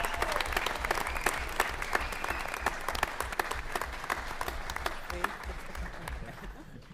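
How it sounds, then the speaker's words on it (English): Audience applause for Titan Award recipients and state qualifiers at a school board meeting, many hands clapping in a sustained round with sharp individual claps standing out, gradually thinning and fading toward the end. "One last round of applause for all our Titan Award recipients and our state qualifiers"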